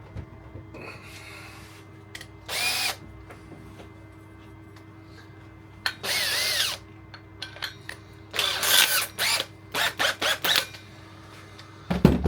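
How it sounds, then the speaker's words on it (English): A power drill whirs in several short bursts of varying length over a steady low hum, close by, with pauses of quiet between runs. "Here's a drill."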